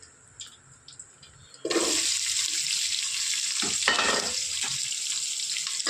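Red onions tossed into hot oil with cinnamon, cloves, peppercorns, marathi moggu and shahi jeera. After a few quiet clicks, a sudden loud sizzle bursts out and hisses on steadily, with faint stirring knocks.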